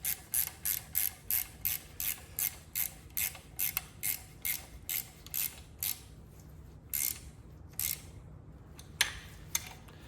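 A ratchet tightens bolts on a 440 engine with a rapid series of crisp, close clicking bursts in a regular rhythm that slow and grow sparse toward the end.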